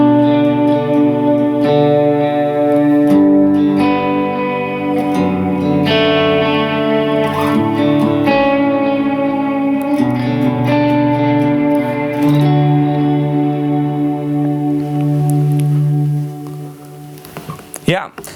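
Sustained electric guitar chords ring out, washed in reverb and delay, with notes blooming and trailing into echoes before a brief clatter at the end.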